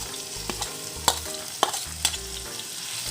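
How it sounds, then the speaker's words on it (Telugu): Chopped ginger and garlic frying in hot oil in a pan. A steady close sizzle runs throughout, broken by a few sharp clicks and scrapes from a stirring spoon. "ఇది బాగా ఫ్రై అవ్వాలి."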